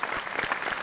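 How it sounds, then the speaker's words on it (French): Crowd applause for firefighters at a citizens' gathering in Paris's 6th arrondissement, a steady wash of many hands clapping for under a second, fairly even and mid-distance with no talk. "je pense qu'on peut les applaudir"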